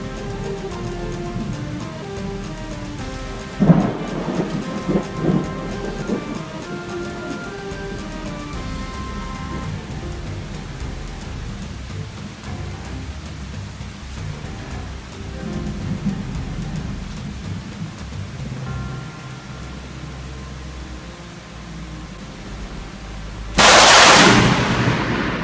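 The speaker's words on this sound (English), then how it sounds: "when the rain came down in sheets and the rumble of thunder was still a good distance away" Heavy rain falls steadily in a storm with thunder in the distance, a continuous loud wash with a sharp crack near the start and a sudden louder burst of rain or thunder near the end; no voices.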